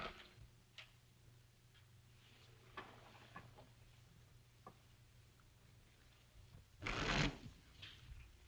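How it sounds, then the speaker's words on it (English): Playing cards are shuffled during a tense card game, faint scattered ticks and light taps followed by a brief louder riffling burst near the end, quiet and without voices. "Shuffle and deal."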